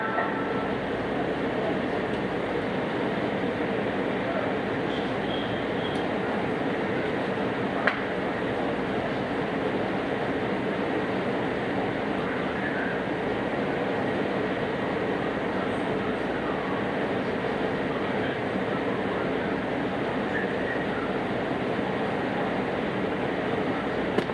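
A WMATA 6000 series Alstom metro car on the Yellow Line rolls along with a steady, loud rumble and hum, with faint wheel clatter and no speech.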